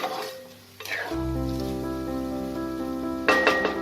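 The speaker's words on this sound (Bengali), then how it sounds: "এই 1/2 কাপের মতো জল অ্যাড করে" Half a cup of water poured into a hot pan of vermicelli for Eid jorda shemai, a loud steady sizzle and bubbling that swells after a splash and holds, with a brief clatter near the end.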